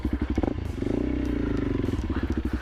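A 2024 Honda CRF 300L motorcycle riding on a trail, its single-cylinder engine thumping in a fast even pulse, loud and close with some rattle over it.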